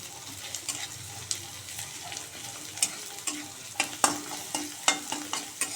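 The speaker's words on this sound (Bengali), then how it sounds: "রসুনটা দিয়ে একটু ভালো করে ভেজে নেব।" Chopped garlic and onion fry in a pan with a soft continuous sizzle, punctuated by repeated scraping stirs of a spatula that grow more frequent toward the end, close and fairly quiet with no talk.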